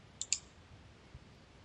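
A computer mouse gives two quick, quiet clicks close together near the start, followed by near silence with faint room noise.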